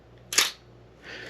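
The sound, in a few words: old film camera shutter firing at 1/500 second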